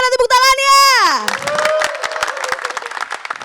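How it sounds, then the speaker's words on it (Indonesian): An audience at a campus talk show festival claps and cheers after a long, falling vocal shout. The dense crowd applause and excited voices are close and loud, with a few children's voices mixed in. "Yang sebelah kanan coba yang paling kencang, mana tepuk tangannya?"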